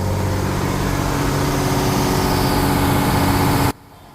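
Detroit Diesel engine running in the engine room of a river launch, a loud, steady, close diesel drone with a constant low throb that cuts off abruptly near the end.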